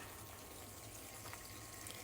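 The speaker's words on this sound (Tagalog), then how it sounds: "pwede na natin lagyan ng kaunting tubig lang" Soft, steady trickle of a little water running into a cooking pan, fairly faint and continuous, with a low background hum and no talking.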